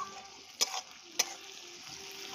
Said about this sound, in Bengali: পেঁয়াজটা কিন্তু দেখো ভাজা ভাজা হচ্ছে